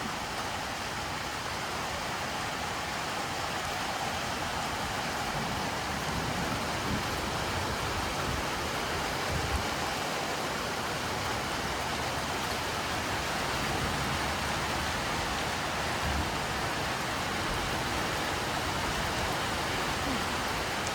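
Steady rain pours against a window in a dense, unbroken hiss that stays even and close throughout, with no distinct drops standing out.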